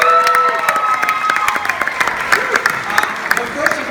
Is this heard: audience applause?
yes